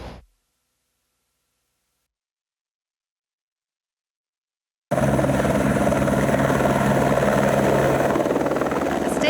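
After a stretch of near silence, a search and recovery helicopter in the Uintah Mountains roars in abruptly, its loud rotor chop and engine drone continuing close and steady to the end.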